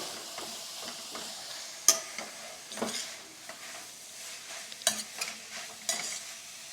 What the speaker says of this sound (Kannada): ಕ್ಯಾರೆಟ್ನ ಹಾಕಿ ಚೆನ್ನಾಗಿ ಫ್ರೈ ಮಾಡ್ಕೊಳ್ಳಿ